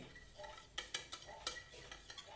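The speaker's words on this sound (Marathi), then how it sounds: "साखर आणि मीठ व्यवस्थित विरघळवून घेऊन" A spoon stirring sugar and salt in a bowl to dissolve them for fasting-style dahi vada, heard as soft scraping with a few light clinks against the dish, close and fairly quiet.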